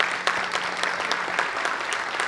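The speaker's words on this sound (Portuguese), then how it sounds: "Vou pedir uma salva de palmas para o nosso conselheiro." Audience applause fills a legislative chamber during a leaders' council session honouring a councillor, steady dense clapping from a room of people with no voices over it, lasting a little over two seconds.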